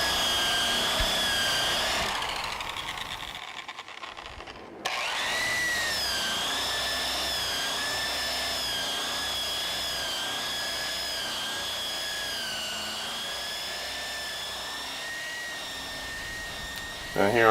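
A Porter Cable Restorer wire wheel tool whines steadily at high pitch, briefly cutting out and restarting, then running continuously with a harsh abrasive grinding underneath.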